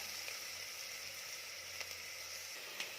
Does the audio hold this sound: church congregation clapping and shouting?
no